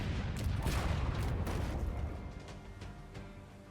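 Heavy booming cannon blasts in a pirate video game roll on continuously, dense and rumbling, with overlapping explosions fading slightly toward the end.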